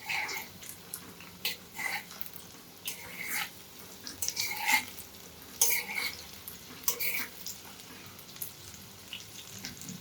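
Sprout pakoda sizzles and crackles in hot oil in bursts of bubbling fizz. Stirring in the pan breaks in now and then, close and moderately loud, with no talking.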